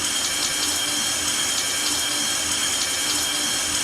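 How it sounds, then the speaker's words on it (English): Loud, high-pressure shower spray from a movie scene, a dense continuous hiss of running water with no break. "listen to how fucking loud this shower is"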